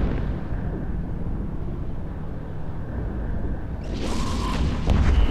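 Torpedo and missile launcher fire in the space game EVE Echoes: a dense, continuous rumbling roar of explosions that swells into a brighter, crackling burst near the end.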